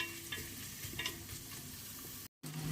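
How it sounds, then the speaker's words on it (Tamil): Bay leaf, cinnamon and cloves sauté in hot oil for mint coconut rice, a steady close sizzle with stirring scrapes throughout and a brief dropout near the end. "நல்லா வதக்கி எடுப்போம்."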